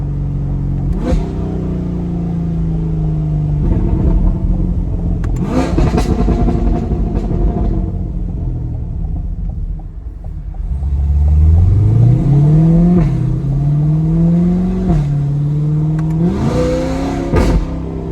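Chevrolet C8 Corvette with a Bad News Racing tune and HP Tuners unlock, loud close engine revving in repeated rising pulls and gear changes, with crackling bursts between revs, no talking.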